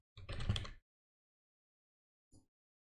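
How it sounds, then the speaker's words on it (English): Computer keyboard typing: a quick, dense burst of keystrokes lasting under a second, then a single isolated key click after a pause, all faint and close against silence. "let me type in Bitcoin"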